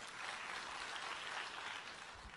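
A church congregation applauds in praise of God, a dense and even wash of clapping that sounds distant and fairly quiet, holding steady throughout.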